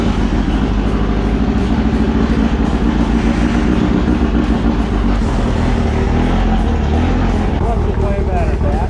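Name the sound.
sand rail buggy engine driving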